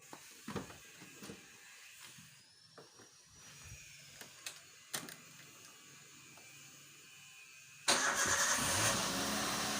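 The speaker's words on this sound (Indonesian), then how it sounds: "Coba nyalakan mesinnya dulu ya" A car engine is cranked and starts near the end after a stretch of quiet clicks and handling noises, then keeps running loud and steady.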